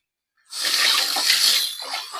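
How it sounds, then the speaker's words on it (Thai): Water pours and splashes steadily as Solanum stramonifolium seeds are rinsed in a cup, a sudden hissing gush starting after a moment of silence and continuing close and fairly loud. "ต่อไปก็เป็นการล้างเมล็ดนะครับ"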